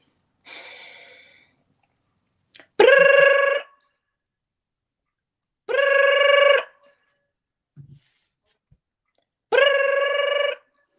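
A telephone late at night rings in three separate bursts, each about a second long, with soft breathing and snorting sounds in the pauses between rings.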